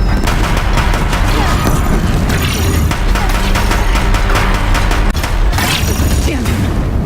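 Deathbringer machines in Horizon Zero Dawn fire at a bridge in loud, rapid, continuous bursts that sound like heavy machine-gun fire, layered with booming impacts and clanking machinery, very close and dense throughout.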